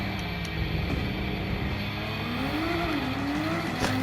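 Race car in Gran Turismo 7 on a qualifying lap, engine droning steadily then rising in pitch under acceleration, with tire noise, close and continuous.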